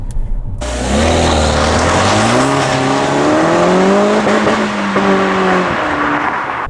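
A 1.6-litre turbocharged engine in a 2017 Peugeot 308 GTi 270 revs hard and climbs steadily through the gears, loud and close, with its pitch rising and briefly dropping at each shift.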